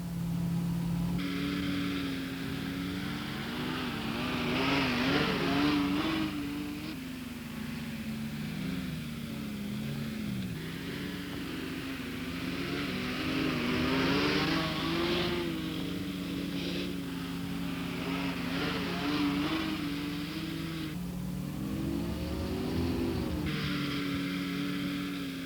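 Vehicles labour slowly over thick spinifex clumps in the Simpson Desert, a steady engine drone rising and falling in pitch with bursts of strain, continuous and fairly close, with no voices.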